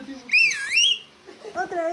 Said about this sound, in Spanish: Cuando aprendes a chiflar.